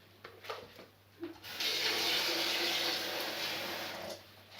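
Hot water pours steadily into a cooking pot for a few seconds, a loud, close, continuous gushing splash that follows a couple of brief clatters.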